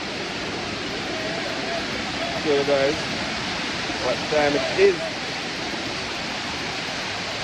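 Steady broadband roar of water at Dunn's River Falls, a cascading waterfall, constant and fairly close, with someone speaking briefly over it.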